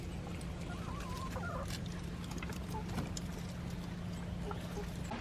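Farm turkeys and chickens gobble and cluck in a coop, scattered calls rising over a steady low hum of background noise.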